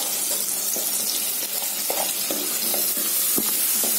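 Okra fried with onions in a clay pot sizzles steadily up close, with soft scraping stirs breaking in every half second or so over the constant frying hiss.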